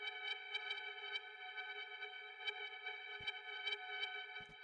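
A sustained granular synth texture shimmers with steady, fluttering high partials and a few faint clicks, continuous and moderately quiet with no voices.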